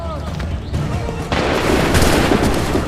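A musket volley at the Battle of Bunker Hill in Assassin's Creed III crackles in a loud, dense burst of overlapping shots after a brief lead-in, with shouting heard under the fire.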